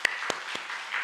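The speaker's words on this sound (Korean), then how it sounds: "우리 로스 선교사님, 르완다 선교사님, 우리 한번 박수로 한번." A church congregation at a Sunday morning worship service gives a short burst of applause, a few scattered claps ringing out over a soft wash of clapping.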